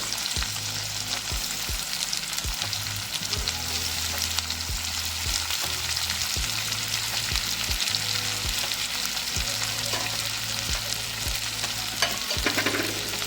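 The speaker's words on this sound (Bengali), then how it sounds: "এবার পেঁয়াজটা ভেজে নেব" Chopped onions frying in a pan for a dried-fish bharta, a continuous close sizzle punctuated by regular scraping stirs of a spatula against the pan.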